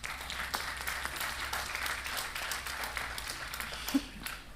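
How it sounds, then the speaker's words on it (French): An audience at a talk on digital mediation careers claps for a speaker, soft and somewhat distant, with steady applause that tapers off and a little background chatter at the end. "Merci beaucoup Marine Jouan, vous applaudit."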